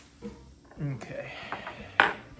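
Fork stirring garlic in a pan, a few soft scrapes and a sharp metallic clink against the pan, with a person speaking briefly over it.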